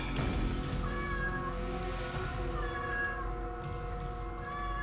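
A pet cat meows repeatedly, several drawn-out, fairly close calls rising and falling over a low background hum from a video game.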